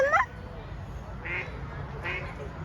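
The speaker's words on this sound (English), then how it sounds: "You see the duck?" Ducks at a zoo give two short, nasal quacks about a second apart, following a brief voice at the start.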